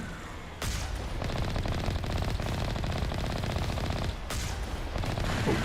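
The Mako vehicle's cannon in Mass Effect fires a dense, rapid burst of blasts that holds loud and steady for several seconds. Sharp heavy reports stand out near the start and again toward the end, with no speech.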